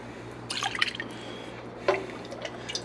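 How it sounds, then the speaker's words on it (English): Broth poured into a bowl of ramen without a ladle, heard as a few soft, separate splashes and drips, a small cluster early and another sharper splash later, fairly faint over a quiet background. "I don't have a soup ladle, so we're just kind of adding this to the broth."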